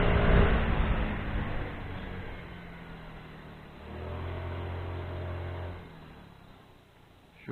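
Mondial Wing 50cc motorcycle engine while riding: a continuous mid-pitched engine drone with wind, easing off, then a steady, louder low hum for a few seconds before fading and rising again at the end.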